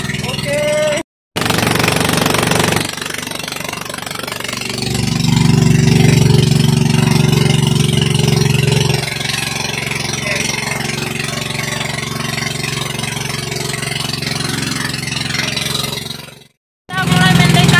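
A steady, droning motorboat engine runs close by on the sea off Indonesia during marlin fishing, growing louder midway, with wind and water noise mixed in.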